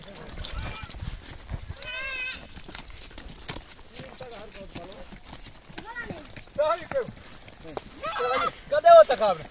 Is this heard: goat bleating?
yes